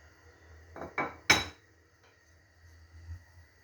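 Potatoes, 800 grams of them, go into a pot of boiling potage parmentier, giving a few close knocks and one sharper clattering clunk, then the quiet hum of the simmering pot with no talking.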